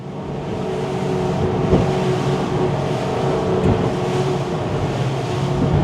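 A Sterk 31 motorboat with twin engines cruises at 30 knots off Mallorca, a steady close engine drone mixed with wind noise and water rushing past the hull.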